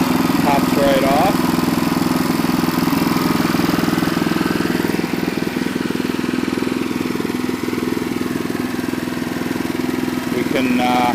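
A Troy-Bilt Horse tiller engine runs at a steady, loud idle, a continuous rough mechanical drone with no breaks.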